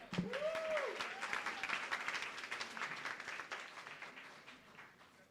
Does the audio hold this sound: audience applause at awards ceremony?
yes